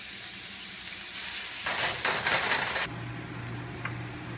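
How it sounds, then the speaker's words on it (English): Carrots sautéing in a pan as a close, steady hiss of frying with bursts of stirring that grow louder, then a sudden drop to a softer sizzle with a low hum. "so that's been sauteing for about 3 minutes"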